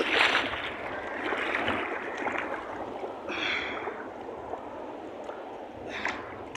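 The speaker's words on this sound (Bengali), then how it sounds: "ঢেউ খালি বড় বড় ঢেউ" Big waves washing and slapping around a boat, a continuous loud rushing water noise close by that swells and eases with a few brief splashes, with no talking.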